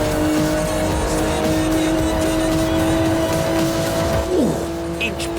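A Porsche 911 GT2 in Forza Horizon 4 drones steadily at high revs with faint tire squeal. Its pitch drops sharply near the end as someone talks over it.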